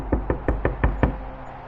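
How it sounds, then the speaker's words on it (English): Six firm, evenly spaced knocks sound on a cabin door in quick succession, loud and close over a low background hum. "we heard a sudden knocking sound on the cabin door"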